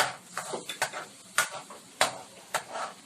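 A spoon stirring chocolate sauce made from Choc Nut candy, water and a pinch of salt in a pan, scraping in uneven strokes with a few sharper clinks against the metal, close and fairly quiet.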